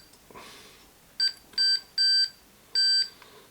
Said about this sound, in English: Okay, so that's beeping intermittently, so that isn't the neutral connection I've got